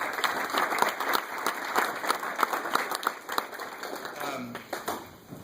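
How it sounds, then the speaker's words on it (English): Guests at an awards dinner applaud the Junior Agent of the Year, a broad roomful of clapping with distinct individual claps standing out, tapering slightly near the close as a voice begins to rise. "So give it a round of applause to Darren"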